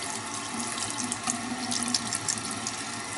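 Running tap water streams steadily into a sink while a makeup brush is rinsed beneath it, a soft continuous splashing hiss, close by and alone.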